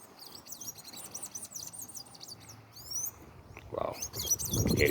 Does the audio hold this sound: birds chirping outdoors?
yes